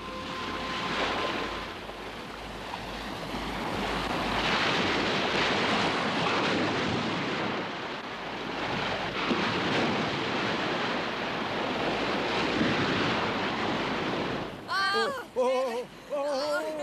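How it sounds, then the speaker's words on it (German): Rivers burst their banks after heavy rain and floodwater rushes across the land, a dense continuous roaring wash that holds steady for most of the stretch before cutting off, with brief tonal sounds at the end. "Die Flüsse steigen über die Ufer und überfluten das Land und reißen alles mit sich fort"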